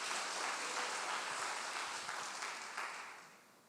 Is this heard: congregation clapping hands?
yes